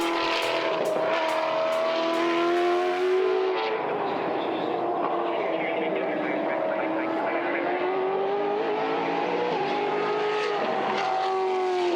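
A Brabham BT62 race car at a time attack event on Sydney Motorsport Park, its engine droning loud and steady through the corners, pitch rising and falling with gear changes, with voices talking over it.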